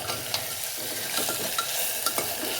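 A spoon stirs red chili powder and turmeric into black masala rice in a hot pan, scraping and clicking over a steady sizzle, close and fairly loud, with no voices.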